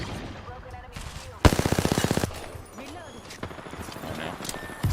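Rapid automatic gunfire in Apex Legends, a loud burst of evenly spaced shots lasting under a second amid other game sounds, with a player talking over the action.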